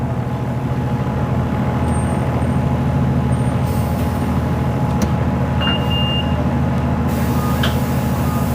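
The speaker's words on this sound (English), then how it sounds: "I'm wearing a mask and I'm on a noisy bus." A noisy Toronto city bus runs with a loud steady engine rumble and drone throughout, with brief high squeals and rattles rising over it midway.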